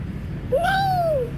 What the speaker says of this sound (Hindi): आजा यार, मेरी बिल्ली है।